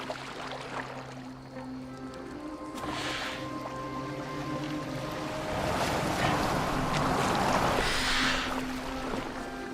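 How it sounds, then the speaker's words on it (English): Boat moving through water in Assassin's Creed Valhalla, a steady wash of water and wind with creaking tones, moderately loud throughout, with game music underneath and no talk. "Are you well enough to steer this boat?"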